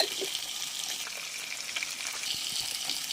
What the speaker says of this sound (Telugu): తాలింపు కింద వేస్తున్నానండి